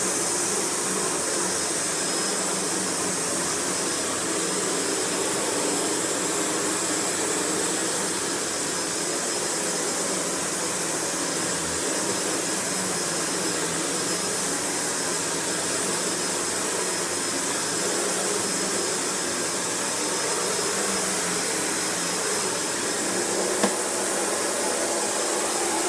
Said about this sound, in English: The Brushroll motor is on now.